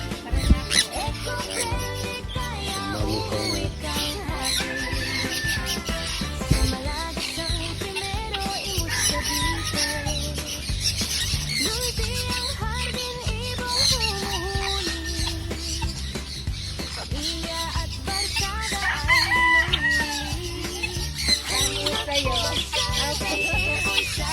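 Pet birds and chickens kept at a home give a dense, steady chorus of squawks, clucks and chirping calls, overlapping continuously and fairly close throughout.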